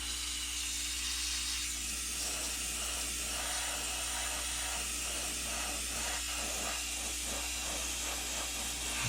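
A heat tool hisses steadily while setting the fourth coat of iridescent blue flash paint on a dragonfly blank, a moderately quiet, continuous airy rush with no one talking.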